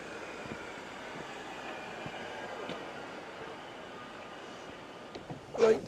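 A train in Wales pulls away toward Brynglas, a steady low rail rumble and clatter running throughout at moderate distance, with a brief louder burst near the end.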